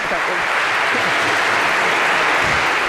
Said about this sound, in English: now I think we give you a round of applause for having done that very well